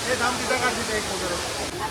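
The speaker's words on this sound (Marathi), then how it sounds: "ही धबधब्याची वरची बाजू आहे" A steady, rushing wash of falling water from the top of Sawdav waterfall in Konkan, India, fills the clip, broad and continuous, with faint voices mixed in.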